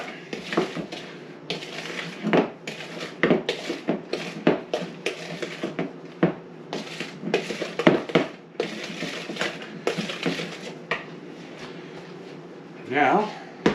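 A spoon beats apple muffin batter in a bowl with quick, irregular clinks and scrapes, close and fairly crisp, while someone talks over the mixing.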